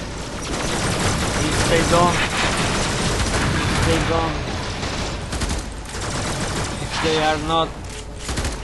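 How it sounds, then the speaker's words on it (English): Enemy gunfire in a Warframe tier 3 defense mission, dense bursts of automatic shots and scattered booms running continuously, with someone talking over the shooting. "the EA stay behind and keep firing"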